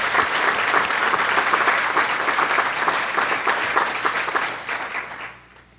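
A roomful of people at a college address breaks into loud, steady applause that holds for several seconds and then fades out toward the end.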